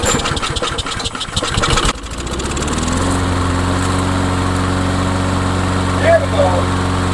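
Old lawn mower engine, just repaired with a new gasket, sputters through a rough start and then settles into a steady, loud running drone close by.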